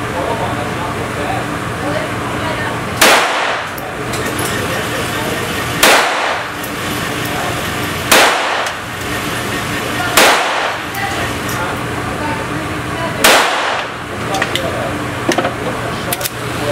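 A GSG5 .22 rifle, an all-metal and heavy gun, fired down range outdoors: five sharp single cracks spaced a couple of seconds apart over steady background noise.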